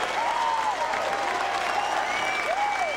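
A crowd at a 1997 bowling masters tournament applauds a perfect 300 game, a dense sustained burst of clapping and cheering with whistles rising over it.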